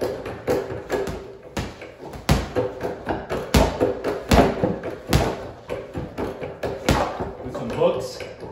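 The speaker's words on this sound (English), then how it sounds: "you can hit it with some good power shots." Punches pound a Title Boxing Deluxe King Cobra reflex bag, a steady series of sharp, close thuds and slaps spaced about half a second apart, with the bag rattling between hits.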